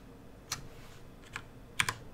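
Computer keyboard keys, the right arrow key among them, pressed while working in the Ultimate Doom Builder map editor: a lone click, a second, then a quick pair of taps, close and fairly quiet against a faint room hum.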